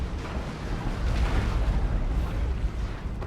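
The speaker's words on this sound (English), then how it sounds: "more las gunfire coming in" Las gunfire and explosions from a Dawn of War 2 match, Space Marines against Imperial Guard, form a dense, continuous rumble of booms and crackling bursts with no clear breaks, loud throughout.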